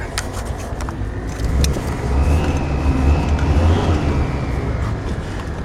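Old 1940s car engine running on stale gas, a rough, uneven low rumble idling close by with occasional clanks and rattles, its loudness swelling and easing as it runs.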